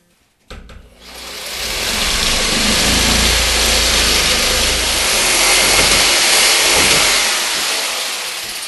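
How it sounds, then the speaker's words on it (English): A power saw with about half an inch of blade plunged into sheetrock around a bathtub, starting with a click and then roaring into a loud, sustained, close whine and grind as it cuts, tapering slightly at the end. "allow about a half an inch of the blade to penetrate the sheetrock"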